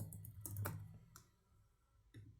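Computer keyboard typing at a desk, a few scattered key clicks in short bursts against a low background hum, fairly quiet and close.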